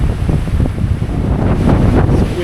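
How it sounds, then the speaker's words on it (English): Strong, steady wind on a mountain roars and buffets against the microphone, a continuous gusty rush with low rumbling, no voices. "It's windy. It's hell up here."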